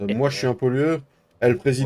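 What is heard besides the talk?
No distinct noise like a dog, phone or traffic.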